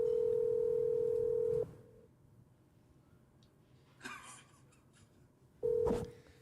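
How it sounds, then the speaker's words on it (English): Steady telephone tone sounds loudly for over a second, then after a pause with a soft rustle another short dialing tone beeps as a call to someone is placed; no talking. "I'm gonna phone him on his normal number."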